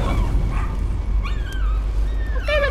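A dog in the horror video game Layers of Fear whimpers and yips in a few short, high, tonal cries, with one bursting out near the end, over a steady low rumbling ambience.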